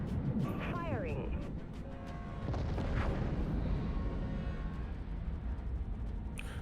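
Cruiser guns firing in the space-battle game Dreadnought, heavy booming shots and bursts rumbling through the mix, with game chatter and voices layered over the ongoing barrage.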